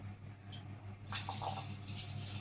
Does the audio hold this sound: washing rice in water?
yes